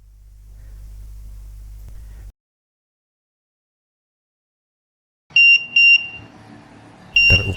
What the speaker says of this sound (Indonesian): LED dan beep 2 kali, output mati.